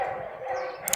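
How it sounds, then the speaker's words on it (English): Dogs bark far off in a muffled, blurred mass with no single woof standing out, and a soft clatter comes at the very end. "a lot of barks going on in the distance."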